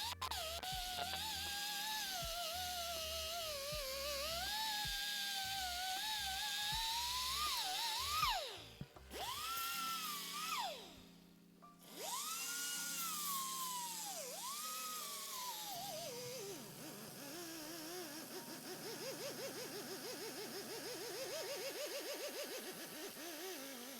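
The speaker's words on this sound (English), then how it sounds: "And that's as much as we'll do with the power tool." A power tool runs during car engine swap work on an Infiniti G35, whining and rising and falling in pitch with load, cutting out briefly twice before spinning back up, then running on steadily without speech.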